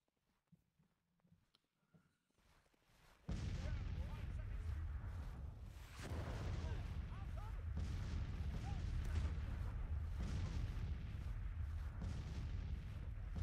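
Civil War artillery batteries firing at will in Grand Tactician: The Civil War, quiet at first, then a sudden loud wall of rolling cannon booms and rumble that continues densely to the end.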